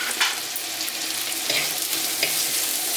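Onions and aromatics for a spicy Kerala ayala fish curry sizzle steadily in a hot pan, a continuous bright frying hiss with a few clinks of stirring, loud and close, with no talking.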